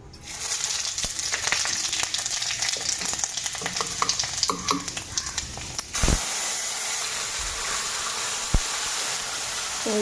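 Vegetable curry sizzling and frying in a pan, a steady close hiss with scattered crackles and a couple of sharp clinks of a utensil against the pan.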